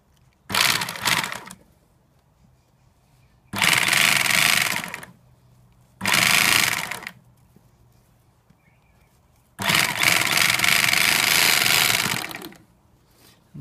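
A Newlong NP-7A bag-closing sewing machine stitches through stacked layers of geofabric and shade cloth with UV thread. Four loud, close bursts of harsh rattling motor and needle noise are separated by short quiet pauses.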